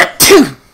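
A single short, sharp sneeze bursts out close by, a quick explosive puff of breath that fades quickly into silence.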